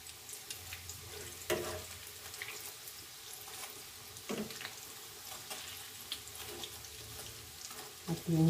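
Breaded zucchini slices frying in oil in a pan right after being turned, a steady low sizzle running throughout with a few brief clinks and scrapes of a utensil against the pan.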